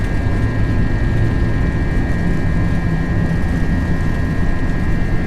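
JetBlue airliner on its takeoff roll down the runway at KDCA, Washington National, a loud steady roar of engines with a constant tonal whine heard from inside, unbroken and close, with no voices.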